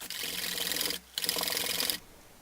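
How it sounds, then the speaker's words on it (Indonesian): Bika ambon batter stirred in a bowl, a steady broad scraping rub in two long bursts separated by a short pause, close and fairly loud with no talking. "Aduk lagi"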